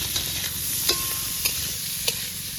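Boiled vegetables fry in pure ghee for fried rice, with a dense, close sizzle broken by three sharp spatula taps against the pan and no voices.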